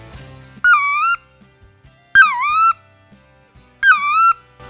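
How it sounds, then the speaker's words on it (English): Three separate rising-then-falling squealing whistles from a wood duck call, each about half a second long, loud and close, with pauses between them. "get your hand on your wood duck call and make a couple of little sounds"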